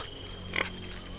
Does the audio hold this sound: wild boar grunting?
yes